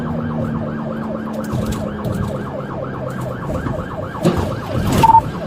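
A police car's wailing siren cycles steadily up and down, loud and near, during a high-speed chase, with a brief clunk and rumble toward the end.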